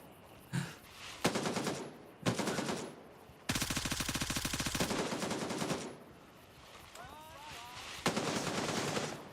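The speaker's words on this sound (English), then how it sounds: "they are definitely shooting me straight in the face" Automatic gunfire rattles in the Gray Zone Warfare military shooter: several separate loud bursts, then one long sustained stream of rapid shots, followed by a lull and another burst, heard at close range against quiet ambience.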